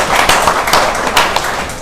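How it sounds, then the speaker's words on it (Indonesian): Audience applause fills a hall at a blood donation and apheresis talk show, a dense, steady patter of many hands clapping together, fairly loud and close throughout. "Beri tepuk tangan."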